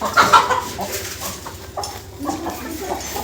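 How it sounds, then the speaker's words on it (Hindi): A hen clucks a few times near the start, then the sound drops under a steady background rumble and scattered farmyard noise. "मुर्गी को पकड़ना है।"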